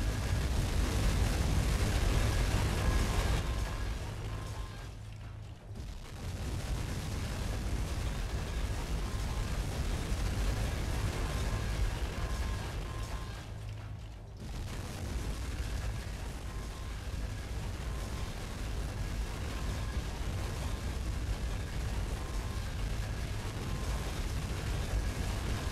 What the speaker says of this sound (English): The oil trucks erupted one by one, one huge domino explosion, creating fireballs seen from miles around.